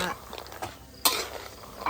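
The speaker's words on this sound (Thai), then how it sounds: "คั่วจนมันหอมคนเลยเนาะ" Food being stir-roasted in oil in a pan with two spatulas for a Thai dish, giving a steady scraping and sizzling texture with a sharper scrape partway through, close by, with a voice faintly underneath.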